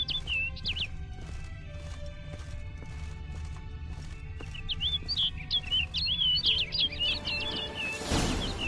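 Bird chirps and trills from The Witcher 3: Blood and Wine ring out in quick, high bursts, sparse at first and then dense and lively near the end, over a low steady game ambience with clopping hooves.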